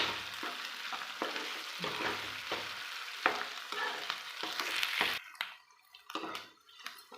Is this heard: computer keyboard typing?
no